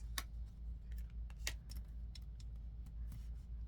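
Tarot cards are drawn and laid out in a quiet room, giving a series of faint, crisp snaps and slides at an uneven pace.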